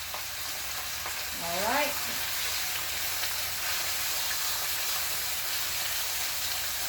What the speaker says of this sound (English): So we're going to sear this up